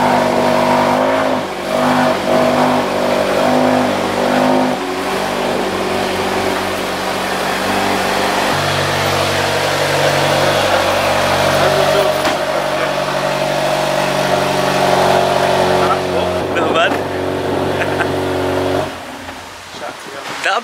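A Range Rover Velar with a banana yellow wrap revs loudly close by, a dense, roaring engine that stays strong for most of the stretch before dropping off near the end, with people talking over it.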